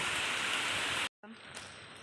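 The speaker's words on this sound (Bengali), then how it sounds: "সকালে উঠে বৃষ্টি চারিদিকে বৃষ্টি ঠান্ডা ঠান্ডা হাওয়া" Dense steady hiss of rain falling, close and even, cutting off abruptly and then resuming more softly.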